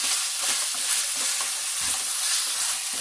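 Chicken seekh fried rice ingredients tossed in a hot pan, a loud, bright, continuous sizzle with faint scraping of the stirring spoon underneath, close up and without speech.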